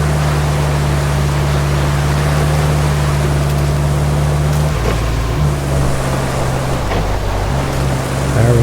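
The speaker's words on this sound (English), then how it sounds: "Now, rain's still coming down hard here." Heavy rain pours down in Roadcraft, a loud, steady broadband wash that continues unbroken through the whole stretch, with a low engine drone shifting pitch underneath.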